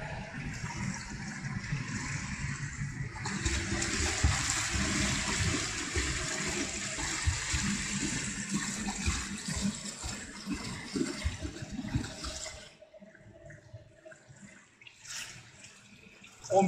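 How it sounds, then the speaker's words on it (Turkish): A swimmer's fast flutter kick churns the water in a pool, a steady splashing wash that runs for about twelve seconds before dropping away into quieter lapping and a final splash. "ayağımı gergin tutacağım ve hızlıca vurmaya başlıyorum"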